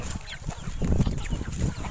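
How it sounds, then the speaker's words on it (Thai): A Muscovy breeding drake on a free-range rice-field farm gives a few low, breathy calls in quick bursts, close by with some background farm noise. "อันนี้คือพ่อพันธุ์เป็ด"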